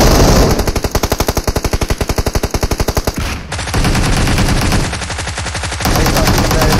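Tommy gun firing in PUBG on Erangal: a long rapid burst of evenly spaced loud shots for about three seconds, then brief pause and more dense gunfire close by.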